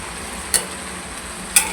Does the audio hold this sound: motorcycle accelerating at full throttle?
no